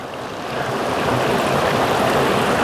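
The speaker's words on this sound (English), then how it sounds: "Got the river coming down there." A mountain river near Zealand Falls on the Appalachian Trail rushes over rocks in a steady broadband hiss that swells slightly after the first half second and then holds constant, close and loud, with no voices.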